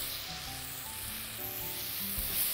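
Grated tomato and carrot sizzle in a hot pan while being stirred, a steady close crackling hiss that holds evenly throughout with no voices.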